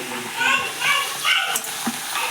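Onions, tomatoes and green chillies frying together in a pan for veg pulao, with a continuous crackling sizzle heard under a voice as she talks.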